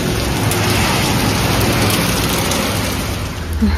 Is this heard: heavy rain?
yes